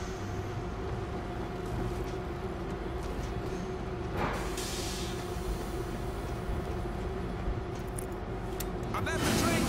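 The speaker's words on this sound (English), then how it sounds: "I'm at the train controls! Backing it up!" A train in the video game World War Z Aftermath backs up, a steady low rumbling drone with a brief metallic screech midway and a louder clank near the end, heard under a speaking voice.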